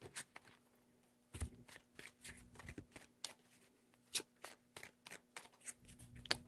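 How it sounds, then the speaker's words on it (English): Tarot cards are shuffled close by in a quiet room, a soft run of crisp riffling snaps and light papery slaps coming in quick irregular bursts. "Three shuffles."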